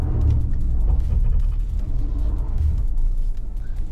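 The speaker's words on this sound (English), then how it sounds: "don't worry about all that sound. It's the vehicle fighting for traction, deciding which wheel to get the grip" A Jaecoo 7 SUV grinds over an off-road track while fighting for traction, with a loud, continuous low engine rumble and drivetrain strain close by.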